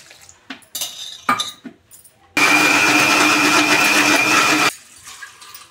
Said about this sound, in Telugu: ఇప్పుడు వాటర్ వేసుకొని ఆడించుకున్నాం